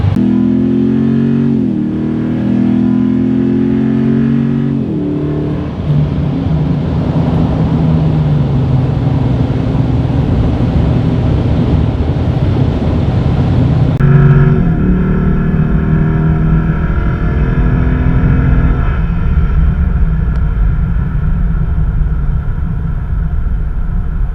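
A pickup truck engine accelerates loudly through rising revs with gear changes, heard from inside the cab as a steady, close drone with no talk.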